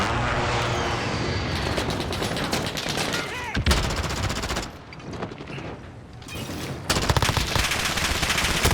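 Rapid machine-gun fire in a modern military shooter game, dense continuous bursts with brief pauses and mechanical clatter, loud and close, with no talk.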